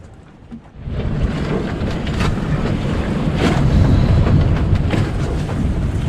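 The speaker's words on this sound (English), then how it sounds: "The wind is blowing." Strong wind blows steadily across a boat anchorage at Turtle Bay, a loud broadband roar with gusty buffeting on the microphone that builds after the first second and holds without pause.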